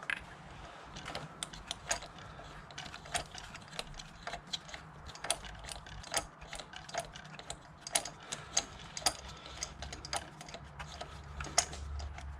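A ratchet with a long 16 mm spark plug socket, universal joint and short extension clicks steadily as it loosens a spark plug on a Peugeot 206 1.4 petrol engine, producing dozens of sharp, close ticks in an uneven rhythm, with no talking.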